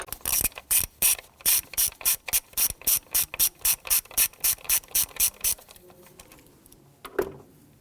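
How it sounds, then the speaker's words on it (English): A ratchet driving a T30 Torx bit loosens a screw on a 2007-2017 Jeep Patriot 2.4L four-cylinder engine, giving a close, steady run of about twenty rapid clicks before stopping, followed by a brief soft clunk. "Now we're going to use a T30 Torx bit to go ahead, loosen, and remove that screw."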